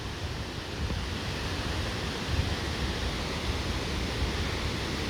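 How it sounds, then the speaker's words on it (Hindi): Torc Waterfall in Killarney, Ireland, a loud continuous broadband roar of falling water, steady and close, with no voices over it. "हाँ जी, ये देखिए आप लोग वाटरफॉल।"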